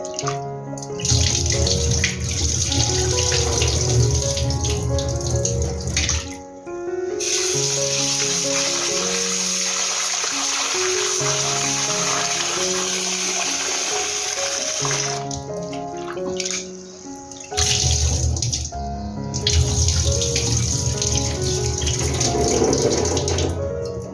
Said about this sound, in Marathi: बघा ही आता स्वच्छ मी धुवून घेतली तीन चार पाण्यातून मी स्वच्छ धुवून घेतली